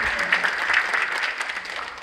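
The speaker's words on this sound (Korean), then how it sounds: "박수로 환영해 주시기" Audience applause welcoming pastors at a multicultural choir competition hosted by a Korean church federation; dense, steady clapping from a sizable crowd, fairly close and even throughout.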